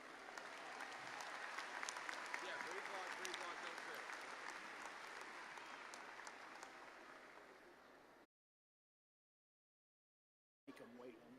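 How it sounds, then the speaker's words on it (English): A large audience at a graduation ceremony claps steadily and warmly for several seconds, then the sound cuts out abruptly before resuming briefly. "Please honor these graduates with a round of applause."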